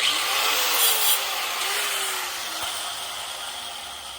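Trimming a nylon spacer during a hydraulic clutch conversion on a 1981 Jeep CJ7, a close, continuous rasping scrape of cutting that fades slightly toward the end.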